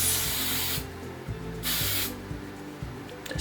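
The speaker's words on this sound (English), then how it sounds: "I'm just going to give it a spray with some hairspray to hold it into place." Short bursts of hairspray hiss aimed at a braided hairstyle, two separate sprays, close and clear over a quiet background.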